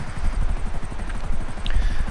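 A video game helicopter during a cell mission gives a steady, rapid rotor chop with deep rhythmic thumping, close and continuous, with no voices.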